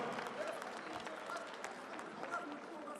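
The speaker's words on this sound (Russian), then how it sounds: "Дамы и господа, ваши аплодисменты." Audience at a cage fighting event in Kazakhstan applauds steadily and evenly throughout, a dense crowd clapping with a general murmur underneath.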